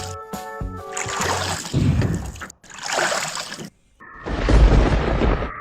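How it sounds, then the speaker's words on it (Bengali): A cartoon boat rocks on water in loud bursts of sloshing and rumbling splashes, separated by short gaps, with a musical tone at the start. "নৌকা নড়ে কেন?"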